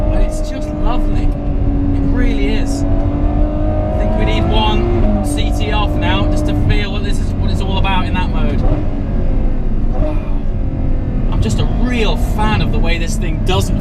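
A Ferrari 812 Superfast engine revs and pulls hard while driving, its rising and falling tone running continuously and close beneath someone talking over it.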